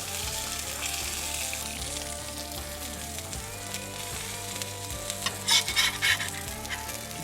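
Seeded burger buns sizzle as they toast in a pan with beef tallow, a steady frying hiss with faint scraping and a few brief clinks near the end.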